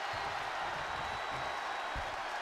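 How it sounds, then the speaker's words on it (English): A wrestling arena crowd in WWE 2K24 during a No DQ two-out-of-three-falls match cheers as a dense, steady roar at moderate volume, with no commentary over it. "What a raucous crowd here tonight."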